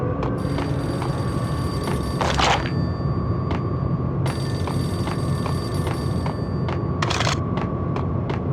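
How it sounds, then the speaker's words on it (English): A payphone rings in the PS2 game Max Payne, two bursts of electronic bell trill a few seconds apart over a steady low ambient hum, with faint ticks between. "payphone started to ring."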